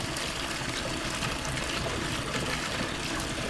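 Water runs steadily through a lab aspirator at a sink, a constant close rushing hiss with no breaks.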